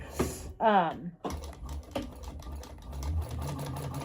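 A sewing machine stitching a bucket bag runs in quick rattling bursts with rapid clicking, and women chat over the work.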